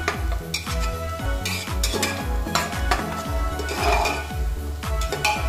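Whole onion and garlic cloves, some with their skins on, fry in hot oil for an Indian mutton curry. The sizzling is loud and continuous, and a spoon scrapes and clinks against the pot in a steady stirring rhythm.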